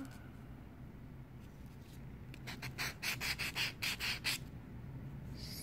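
Rough edges of a Japanese foil ball being smoothed by rubbing, a quiet run of about eight rhythmic rasping strokes in the middle after a faint lead-in.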